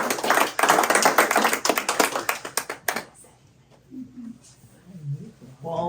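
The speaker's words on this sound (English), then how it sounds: "everybody give her a round of applause" A seminar audience applauds a patient, Mrs. Cross, as she comes forward: brisk, loud clapping for about three seconds that stops abruptly. A few quiet voices and some movement follow.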